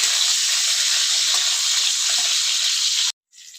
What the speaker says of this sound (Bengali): মিশিয়ে দেবো কয়েক কোয়া রসুন তো রসুনটা একটু ভেজে নেবো